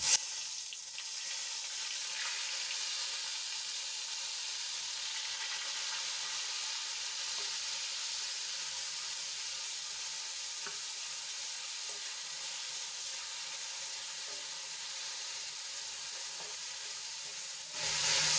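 Crushed onion sizzling in hot oil with mustard seeds, cumin and asafoetida for capsicum gravy, a steady soft frying hiss that holds evenly, with no talk.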